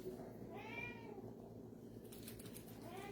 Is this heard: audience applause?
no